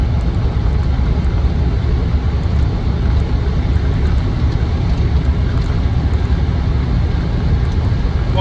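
Land Rover Defender 90 50th Anniversary engine pulling along on the road, a steady, loud low drone with road and wind rumble from inside the cabin, unbroken throughout.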